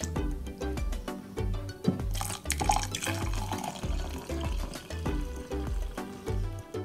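A piece of ginger and hot water are poured into a cup for ginger-lemon tea, the liquid splashing steadily beneath louder rhythmic background music throughout.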